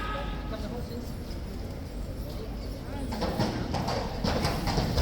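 Horses' hooves clip-clop on hard ground as a group passes through opened gates at the arches on a rainy day, the clatter growing louder and denser partway through over a steady crowd murmur.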